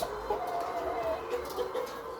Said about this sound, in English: This is a chicken farm